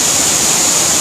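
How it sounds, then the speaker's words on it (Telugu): Water pours steadily from a secret waterfall in the hills near Kuntala Falls, Telangana, making a dense, unbroken rush that stays loud and close for about a second with no voices. "చూసారా ఎంతో బాగుంది వాటర్ ఫాల్, చాలా బాగుంది"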